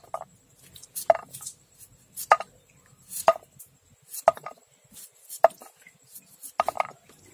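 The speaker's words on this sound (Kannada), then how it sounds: "ಈಗ ಇದನ್ನು ಸಣ್ಣ ಸಣ್ಣಗೆ ಕಟ್ ಮಾಡ್ತಿದ್ದೀನಿ" Green mango being chopped into small pieces with a knife on a cutting board: sharp, evenly spaced knife taps about once a second, fairly quiet and close, with no talking.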